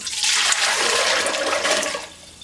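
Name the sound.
fresh water being poured into a steam juicer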